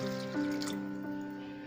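Water poured into a pan of spinach kofta curry makes a short, soft trickle and splash over a steady background hum, close by and fairly quiet.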